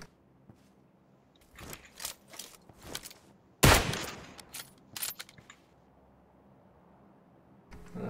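Scattered bursts of PUBG Lite gunfire on the Erangel map during a squad match, a few sharp shots and one loud blast around the middle, with quiet gaps between and no talking.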